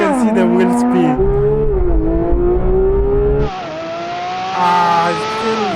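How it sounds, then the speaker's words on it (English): Porsche GT3 RS launching with its tyres spinning, a loud engine wailing up through the revs with a brief dip before climbing again, close and continuous, with voices talking over it at the end. "Oh, perfect launch, but you can see the wheel speed."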